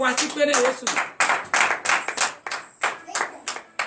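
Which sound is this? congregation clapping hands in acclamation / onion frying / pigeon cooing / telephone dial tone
congregation clapping hands in acclamation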